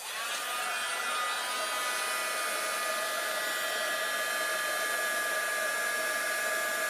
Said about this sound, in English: I'm going to go ahead and heat set that on camera